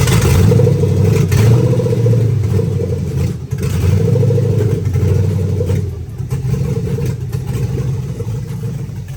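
LQ9 6.0 V8 engine idling roughly on its first start-up after an LS swap, with an unfinished exhaust, a loud, deep, uneven rumble with slight revving swells and mechanical clatter, close by, with no one talking.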